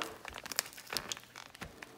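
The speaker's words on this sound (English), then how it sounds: "I'm gonna open this cheese now" Quiet crinkling and rustling of a thin plastic cheese packet being handled and pulled open in a kitchen, with a few sharp crackles close by.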